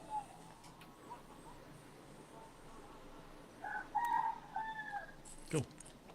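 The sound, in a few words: rooster crowing in the morning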